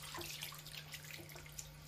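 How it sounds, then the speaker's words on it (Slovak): Hands washed under a running tap with clean water, a steady broadband splash and trickle of flowing water close by, continuous over a constant low hum, with no voices. "Ruky sa umyjú pod tečúcou čistou vodou."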